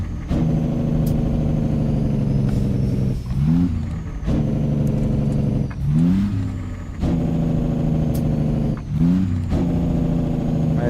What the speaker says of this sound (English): So we're going to downshift right through the box.